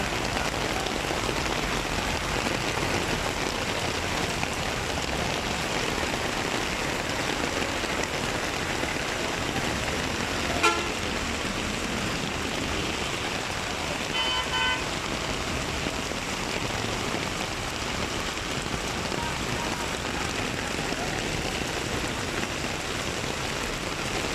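Heavy rain falls on a street in Sylhet, Bangladesh, as a continuous, even hiss of drops on the road and surfaces, with a faint vehicle horn briefly heard midway.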